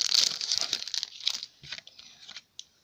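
Wrapping on a gift mirror for Valentine's Day is crinkled and torn open by hand, with loud close rustling and tearing at first that thins into a few softer crackles and one final crinkle.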